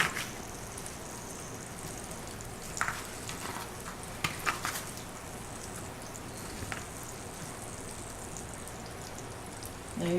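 Chicken fried steak fries in a pan with a shallow layer of blended Wesson oil, giving an even, continuous sizzle like light rain, with a few faint pops and clinks over it.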